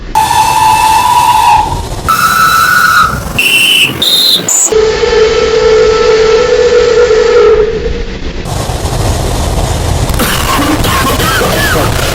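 A steam whistle on steam locomotive 6024 at the Severn Valley Railway blows in several rising tones, then a long loud hiss of escaping steam, with a continuous rushing hiss of the locomotive at close range.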